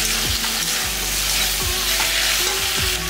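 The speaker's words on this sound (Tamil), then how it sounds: "3 சில்லு தேங்காய் அதையும் போட்டு நல்லா வதக்கிடலாம்." Onion, tomato, cucumber and coconut pieces sautéing for chutney: a loud, dense sizzle right at the pan, with rhythmic sweeping scrapes of a spoon stirring roughly twice a second, and no voices.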